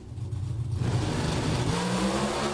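NHRA Pro Stock drag race cars at a Seattle event launching together in the first pair out, a loud sustained engine roar that swells abruptly after a quieter start and holds steady and dense to the end.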